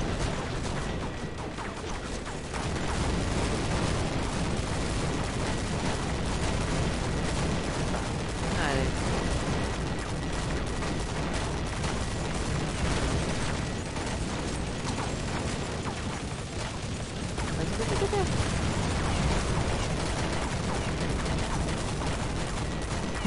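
Counter-Strike Nexon: Zombies gunfire in dense continuous bursts, rapid automatic shots layered with mechanical clatter and a constant loud wash of combat noise.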